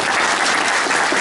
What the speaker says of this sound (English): So let's give all of us rounds of applause.